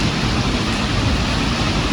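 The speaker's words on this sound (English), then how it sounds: "it's raining pretty good" Steady rain falls at night, a dense, loud, unbroken hiss and patter with no voices.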